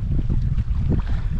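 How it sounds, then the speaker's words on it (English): Strong wind buffets the microphone on a Norwegian fjord in Agder during a solo canoe trip, a steady close roar with gusty surges and no speech. "It was way too windy."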